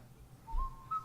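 A short, faint whistled tune of a couple of brief notes, rising in pitch, heard alone against quiet background.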